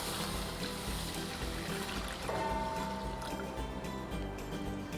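Water pours into a pot for murukku dough as a steady liquid trickle and fill beneath kitchen background noise, with a rising tone appearing midway as the vessel fills.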